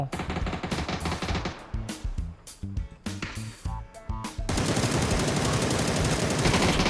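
Gunfire in PUBG: loud, close bursts of automatic weapon fire with short gaps, building into a dense, continuous volley toward the end, with no voices.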